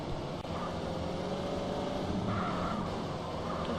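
Car tyres skid in GTA San Andreas, a continuous noisy screech over engine rumble that holds steady at a moderate level for the whole stretch.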